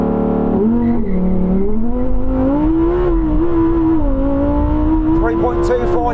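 A Lamborghini Huracan Tecnica, rear-wheel drive, launching hard from a standstill, its engine note climbing loud and close through the revs with a brief shift dip, heard from the cabin.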